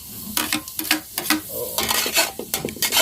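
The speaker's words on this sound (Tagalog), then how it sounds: "Naibutang na natin ang luya at ang bawang o laso na. Lalagay natin ang sibuyas." Onion dropped into a pan of sizzling ginger and garlic, then stirred: a quick series of sharp metallic spatula scrapes and clinks over a crackling fry, close-up and busy, with no voices.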